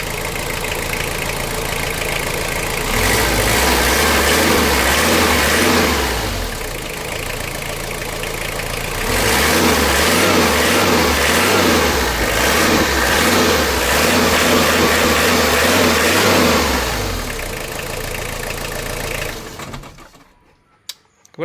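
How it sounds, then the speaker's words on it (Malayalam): A car in a private home garage starts and idles with a low rhythmic engine thrum, revving up twice in long swells before settling, then cutting off near the end; no one speaks over it. "ഈ വണ്ടി സ്റ്റാർട്ട് ചെയ്താൽ ഇവൻ ഓടിയെത്തും"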